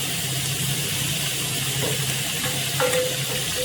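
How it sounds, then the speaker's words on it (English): Green chilies and tomatoes sizzle steadily in an uncovered skillet of hot mustard oil, a continuous close frying hiss with a few faint clinks near the end. "Now let's add the green chilies and the tomatoes"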